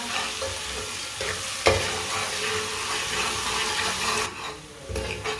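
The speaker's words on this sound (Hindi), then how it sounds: "2 मिनट के लिए पका लेंगे लहसुन को, लहसुन का भी कच्चापन खत्म हो जाएगा" Steady sizzling and crackling of garlic frying in a pan for aloo palak, with occasional scrapes and clinks of stirring.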